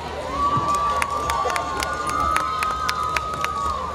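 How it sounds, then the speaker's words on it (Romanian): Crowd at an international folk music and dance festival in Moinești cheers and applauds as awards are announced, a steady dense roar with scattered sharp claps and shouts, fairly loud throughout. "Felicitări și aplauze!"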